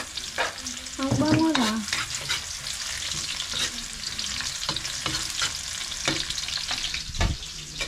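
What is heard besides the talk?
sautéing food in a pan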